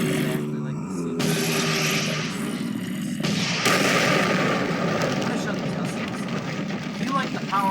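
Power of Zeus gun in the Minecraft Rival Rebels mod fires with a loud, roaring crackle of blasts and sustained rumbling energy, mixed with bursts of noise and someone talking over it.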